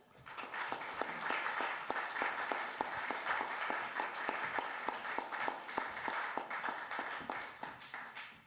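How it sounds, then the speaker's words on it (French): A conference audience applauds as panel guests take the stage at a discussion event, a steady, dense round of clapping sustained for several seconds at moderate level before tapering at the end. "On peut les applaudir."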